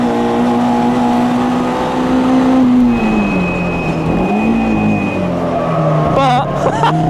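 A Lotus Elan 26R race car lapping a track, its engine note droning loud and close, then dropping as the driver brakes and rising again, while someone talks over it.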